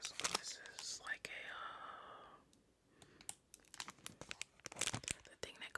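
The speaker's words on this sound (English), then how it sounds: "we're just gonna do like the crinkle sound on this" Close, quiet ASMR crinkling of a straw wrapper, sharp rustles and crackles coming in bursts, with soft whispering in between.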